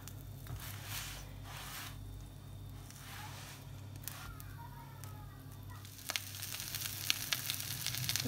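A savory omelette cooks in a pan with a soft, faint sizzle and occasional scraping and handling noises, steady and low throughout.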